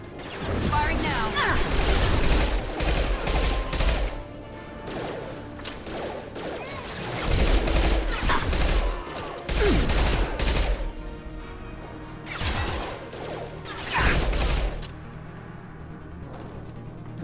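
Bursts of heavy gunfire and explosive blasts in combat in Mass Effect 2 come in loud waves with short lulls, mixed with voices and mechanical noise.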